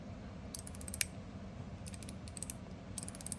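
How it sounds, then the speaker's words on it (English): Ceramic balls rolling under a Liuchu One Pal zirconium mechanical slider, giving short clusters of light, bright ticking clicks in three brief bursts over a low steady hum, close and quiet. "Definitely glides better on the ceramic now, and now it has more of like a tink kind of sound to it."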